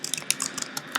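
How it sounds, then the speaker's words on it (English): Quick, light typing on a computer keyboard, a rapid run of crisp clicks close by with no voices. "so for the proposal title, I'm gonna type here"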